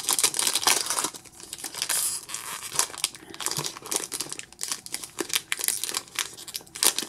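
A Pokémon TCG Furious Fists booster pack wrapper crinkles and crackles as it is tugged and torn open, with repeated bursts of close, loud foil rustling over about seven seconds.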